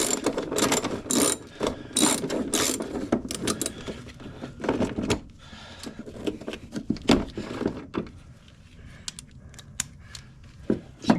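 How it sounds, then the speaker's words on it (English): A power ratchet works on the fender bolts of a Chevelle restomod, whirring in short, sharp bursts with quiet pauses between, close by and with no talk. "Should get one of those power ratchets."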